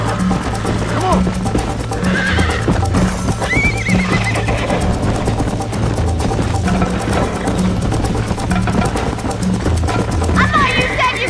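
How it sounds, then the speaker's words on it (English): A horse in the video game Red Dead Redemption gallops with steady clip-clop hoofbeats and neighs repeatedly, loud and close, over a continuous busy game soundscape. "I think you chose the wrong horse, Miss McFarland!"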